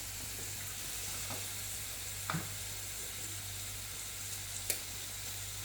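Parsley frying in a pan gives a soft, steady sizzle at low volume, with a couple of faint clicks as it is stirred.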